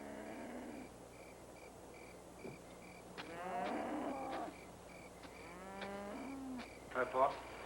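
Cows mooing on a farm, a few drawn-out lowing calls at moderate distance over a quiet background with faint insect chirps.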